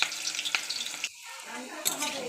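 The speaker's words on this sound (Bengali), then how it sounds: "এবার মাংসের আলুগুলো ভেজে নেব" Potatoes for a mutton curry frying in hot oil in a wok, a close sizzle with crackling pops and a brief stirring scrape, dipping quiet for a moment before the sizzle returns.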